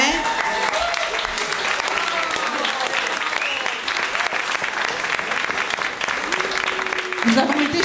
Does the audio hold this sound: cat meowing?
no